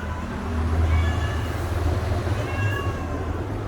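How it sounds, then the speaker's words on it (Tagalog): A pet cat meows twice at home, thin and moderately close, over a steady low rumbling background hum with no voices. "Nag-iingay ang aking pusa."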